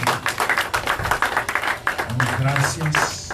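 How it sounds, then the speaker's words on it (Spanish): A church congregation claps and applauds after worship, a run of rhythmic hand claps in a room with voices talking over the last part. "Dale un fuerte aplauso al Señor."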